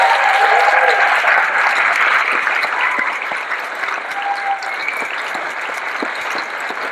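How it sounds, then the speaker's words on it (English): Steady, dense applause from an outdoor celebration audience for the Bourne High School Alumni Chorus, loud at first and easing slightly as it continues, with faint voices mixed in. "Let's give them another round of applause"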